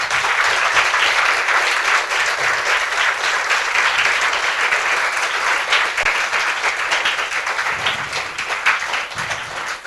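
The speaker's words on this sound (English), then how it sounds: "So all of you give big round of applause to Purushottam." Sustained audience applause at a community gathering, a dense steady wash of many hands clapping for about ten seconds, loud and continuous with no talk over it.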